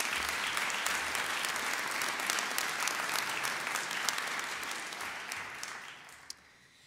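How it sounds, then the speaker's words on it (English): A graduation ceremony audience at a Fife College ceremony claps and cheers, a dense steady roar of hands that holds for about five seconds before thinning and fading out at the end. "So clap, cheer, and celebrate yourselves and the others around you."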